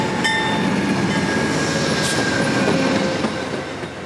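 A CSX train rolls into Jacksonville near Simpson Yard, with continuous loud rail rumble, wheel squeal and faint clickety-clack throughout, fading slightly at the end.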